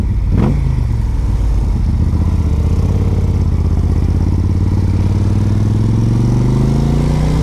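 A Moto Guzzi motorcycle engine idles with a steady, loud, close rumble, starting with a quick blip of the throttle and then settling into an even, throbbing low pulse that lasts throughout.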